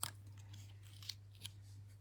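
Scissors trim the paper ends of a pop-up greeting card, making a few quiet, close snips spaced apart over a faint steady hum.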